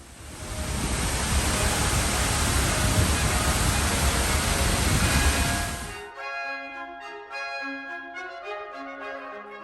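A powerful Icelandic waterfall roars loud and close in a dense, steady rush for about six seconds before cutting off abruptly to quieter music.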